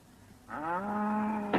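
A cow gives a single long, loud moo, rising in and holding steady with a rich tonal drone for about a second, close and alone without speech.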